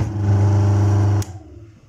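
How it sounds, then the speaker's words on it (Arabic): An electric motor, likely a single-phase motor with a faulty centrifugal switch or start capacitor, tries to start with a loud, steady low growling hum that cuts off abruptly after about a second, leaving a faint fading rumble. "هذا صوت الجعر الاولانيه، هذا بدل على انه"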